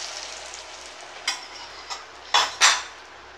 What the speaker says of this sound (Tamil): இப்போ வந்து முட்டையை ஊற்றுவோம்.